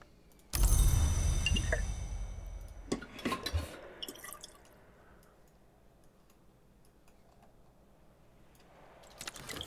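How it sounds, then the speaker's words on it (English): Tea pours in the video game Book of Hours as a steady liquid rush that runs about three seconds, followed by a few light clinks and drips, then near silence. "And while we do that, I will pour out the tea."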